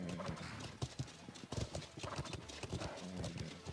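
Horses in a stable in the Life is Feudal video game, steady hoof clip-clop with occasional whinnies, fairly close and continuous throughout.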